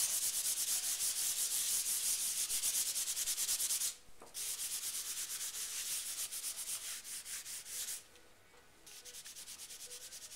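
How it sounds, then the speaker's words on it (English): A Conte crayon is rubbed over paper to lay down a mixed-media background, making a loud, close, continuous scratchy rubbing. Two short pauses break the steady back-and-forth strokes. "I'm going to take a Conti crayon, make kind of a background first."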